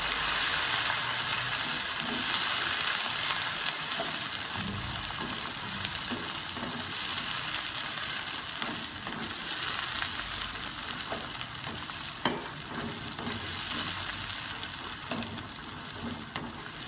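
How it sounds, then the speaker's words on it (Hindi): A kilogram of green peas fries with garlic ginger paste in a pan, a continuous loud sizzle and hiss with scattered stirring scrapes throughout. "इनको हम अच्छी तरह से फ्राई करेंगे।"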